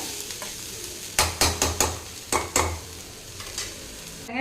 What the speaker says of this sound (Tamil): மல்லி இலைகள் வந்து இந்த அளவுக்கு வதங்கி தான் போதுங்க